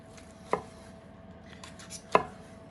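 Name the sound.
carving slow-roasted fallow deer shoulder into slices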